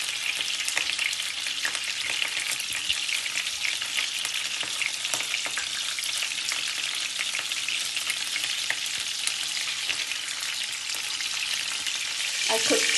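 Very thin saltimbocca frying in a hot pan, a dense, steady crackling sizzle that runs loud and unbroken from start to finish, close up, with no voices over it.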